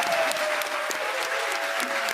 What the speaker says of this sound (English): if we can have one more final applause for our candidates